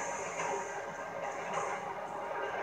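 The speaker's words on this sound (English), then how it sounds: "Here comes the train." A train rumbles past in Grand Theft Auto V, a steady loud hiss and rush with no talking over it.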